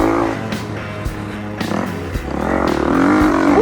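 An Irondog MX riding on a paddle-style track weaves through soft woodland ground, its engine buzzing close and loud, dipping between throttle blips, then rising into a climbing rev near the end.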